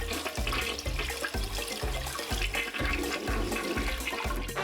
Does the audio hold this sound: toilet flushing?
yes